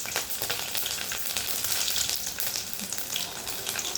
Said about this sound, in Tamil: வடியம் பொரியும் போதே ஒரு 4 பல்லு பூண்டையும் இதில் சேர்த்துக்கலாம்.